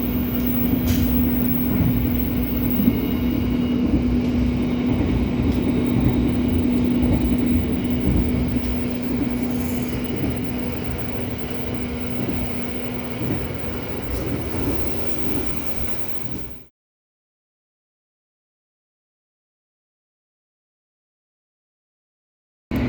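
Interior of the Argo Parahyangan passenger train in motion: a steady, loud rumble and hum of the carriage with a constant tonal drone and faint clatter, then sudden silence near the end.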